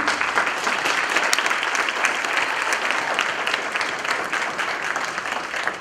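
Audience applause in a class setting, a steady dense wash of many hands clapping close and loud throughout, with no talk over it.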